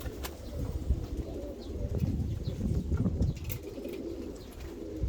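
Young helmet pigeons, red and yellow birds, coo softly with scattered chirps over a steady low rumble of background noise.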